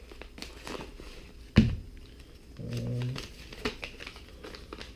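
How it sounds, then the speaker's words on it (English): Packaging for a one-ounce silver bar is cut open and crinkled, with a sharp snip, a rustling plastic stretch and scattered faint crackles close by in a quiet room. "Here's the packaging. Let's go ahead and cut into it."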